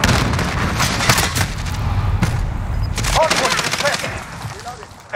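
A frag grenade blast in Call of Duty: Modern Warfare multiplayer stands out among sharp bursts of gunfire and thuds, dense and close, with faint game voice callouts.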